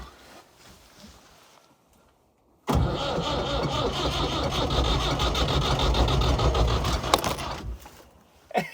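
A motorhome engine cranks after a quiet pause, churning loudly and steadily for several seconds, nearly catching, then dying away without starting.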